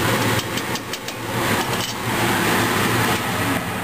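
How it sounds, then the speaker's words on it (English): Kitchen exhaust fan running during roast beef cooking, a loud steady broadband whoosh with a low rumbling hum, continuous and close throughout. "sorry about that fan, but otherwise it smokes the whole house up."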